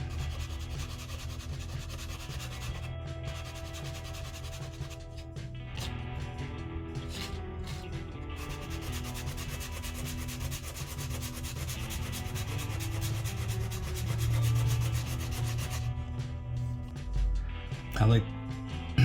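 Soft steady rubbing of sandpaper on a wooden Jungle Cruise sign kit piece, a continuous quiet scratchy friction with a few louder strokes near the end, and a voice speaking over it.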